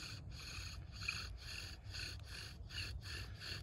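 A wooden spindle is worked against a hearth board with a bearing block in a friction fire kit, giving a faint, steady series of dry rubbing strokes back and forth, about eight even passes.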